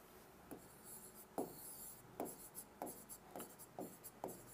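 Chalk or marker writing on a board during a Hindi grammar lesson, heard as a quiet series of short, irregular strokes and taps at close range, with no talking.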